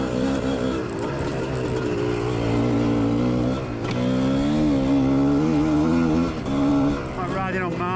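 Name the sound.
motorcycle riding on loose quarry track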